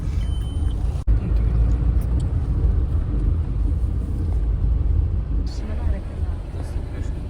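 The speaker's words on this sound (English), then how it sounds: "This place is so big that we have to go by car" A car drives across a large gravel yard with a steady low engine rumble and tyre noise, loud and close throughout, with a brief break near the start; people talk over it.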